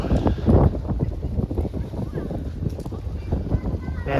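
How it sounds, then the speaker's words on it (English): Wind gusting through the streets of Wiener Neustadt, Austria, a rough buffeting rumble with uneven bursts, loudest near the start, while a person talks over it. "And the wind."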